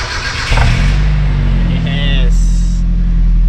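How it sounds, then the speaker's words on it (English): The VR5 engine of a VW MK4 Bora Wagon cold-starts with a sudden loud burst, then settles into a strong, steady idle rumble, with a brief higher whine near the end. "Get a nice little cold start here."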